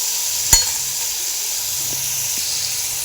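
Sliced radish cooks under a lid in a pan on low gas, giving a steady soft sizzle and hiss of steam, with one sharp clink near the start and a couple of faint taps later.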